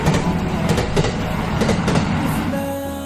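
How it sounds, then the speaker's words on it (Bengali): A Dhaka metro rail train pulls into the station with a steady rumble and rattle of wheels, loud and close throughout, then easing and slowing toward the end as a faint whine lingers. "অপেক্ষার শেষে মেট্রো রেল আমাদের সামনে চলে আসে।"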